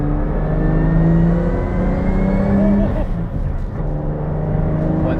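A Toyota Cressida with a 1JZ engine and a nearly open exhaust fitted with a resonator revs loudly and close, a deep droning note that rises briefly before easing off, with someone talking over it.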